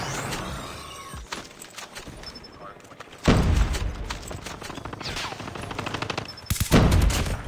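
Gunfire in the mobile game Call of Duty Mobile, with bursts of shots that turn loud and close midway and again near the end, under quieter game ambience and occasional talk.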